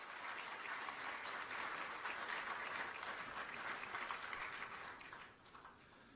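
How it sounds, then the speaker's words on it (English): Applause fills the hall at the swearing-in of Ghana's Chief Justice, a sustained dense round of clapping that tapers off near the end, moderately faint with no talk over it. "Another round of applause, please."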